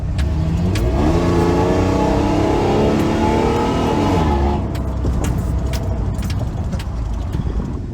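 A Chevy Silverado pickup, recently treated with Seafoam and smoking, accelerates hard with its engine rising in pitch through a sustained pull, then eases off into a lower, rougher drone; loud and close, with no talking.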